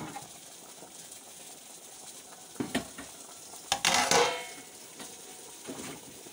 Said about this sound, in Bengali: বেগুন ভাজাটা হয়ে গেছে, নামিয়ে নিতে হবে।